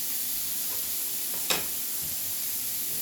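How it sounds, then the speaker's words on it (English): Ground beef burgers browning in a pan for a chopped cheese sandwich give off a steady, moderate sizzle throughout, with one brief louder crackle partway through and no talking. "while our burgers is browning"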